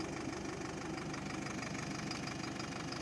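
Farm tractor engine idling in a cereal field, a steady mid-pitched rumble with a regular knocking pulse, even and continuous with no voices.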